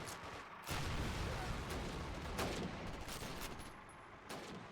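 Sustained gunfire in the World War II shooter Call of Duty: United Offensive, a dense fusillade of rifle and machine-gun shots with loud sharp bursts standing out against continuous battle noise.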